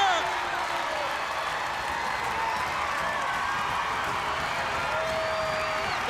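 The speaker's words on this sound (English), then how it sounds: "The crowd is going crazy." A packed wrestling arena crowd at WCW Beach Blast 1993 roars continuously, a dense, loud wall of cheering and applause with a commentator's voice running over it.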